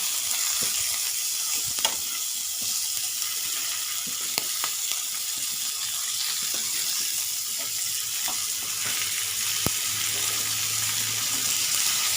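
Thinly sliced salted pork belly fries in hot oil with a loud, dense, continuous sizzle and crackle. Scattered pops sound up close, and no voice is heard.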